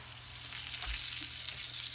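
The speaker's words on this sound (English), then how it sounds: "Oh, you hear that sizzle." A Cubano sandwich sizzles in butter on a hot pan, a close, steady crackling hiss with small pops, with no talk over it.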